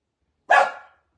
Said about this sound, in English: And we've got a dog barking.